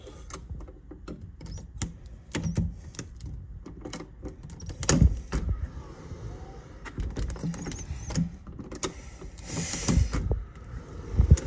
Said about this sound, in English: Can't get this door to lock.